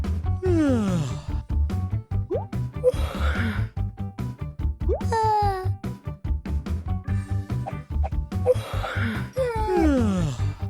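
Several people yawn one after another, each a drawn-out, moaning breath that rises and falls, with sighing gasps between them and no talk.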